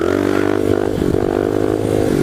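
A pit bike holds a fourth-gear wheelie, its engine droning in a steady, close, high-revving buzz with light clatter and scraping mixed in.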